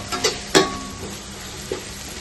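Mint and coriander being stirred into mutton curry frying in a pan, giving a few soft scraping knocks over a steady low sizzle, with no one talking.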